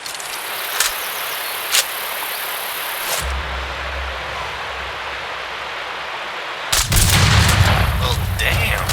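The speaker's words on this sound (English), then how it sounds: "Use the explosive bullets." Explosive sniper rounds fired in the video game Sniper Ghost Warrior 3: two sharp, distant cracks early on, then a loud, sustained blast with rumbling debris near the end, all over a constant ambient wind bed.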